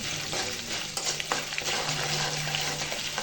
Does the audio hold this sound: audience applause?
no